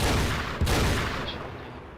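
Gunfire in the online shooter Battlefield Heroes: a dense burst of overlapping shots with a sharp crack near the middle, loud and close over continuous battle noise, no talking.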